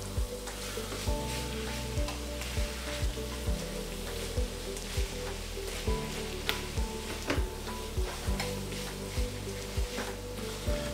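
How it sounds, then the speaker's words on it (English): Scrambled tofu cooking in a pan, with a dense, continuous sizzle and crackle throughout and occasional soft taps, close-up and steady with no voices. "We'll just let that cook for a bit, warm up through."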